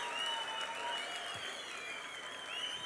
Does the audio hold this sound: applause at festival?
yes